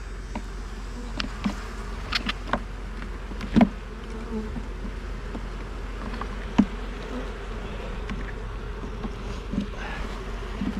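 Honey bees in an opened hive hold a close, continuous buzz, with individual bees whizzing past the ear and a few soft knocks of hive handling, all without talk.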